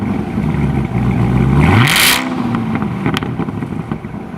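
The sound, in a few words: Chevrolet Corvette ZR1 engine revving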